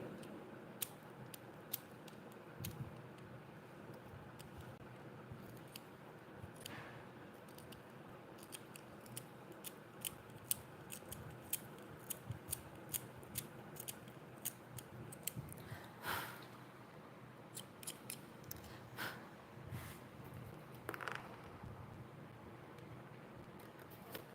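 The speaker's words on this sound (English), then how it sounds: "I prefer sharpening it with the cutter only." A 4B pencil is shaved with a cutter knife in a long run of quick, dry scraping cuts and clicks, faint and close with no talking.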